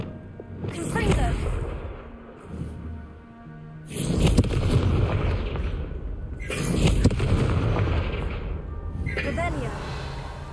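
Confringo fire spell blasts in Hogwarts Legacy, a few booming explosions with rumbling tails spaced seconds apart, a voice casting spells between them.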